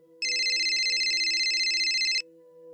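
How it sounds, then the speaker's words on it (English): A mobile phone rings with a steady electronic tone that lasts about two seconds over a faint low hum, fairly quiet and with no one speaking. "8:56 p.m. Chanda's phone rang."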